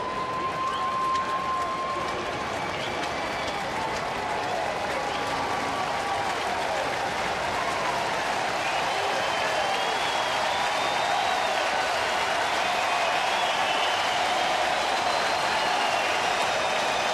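A crowd of more than 23,000 at a Milwaukee at Cincinnati baseball game, trailing in the bottom of the ninth inning, keeps up a continuous, even wash of applause and cheering that carries from far across the ballpark.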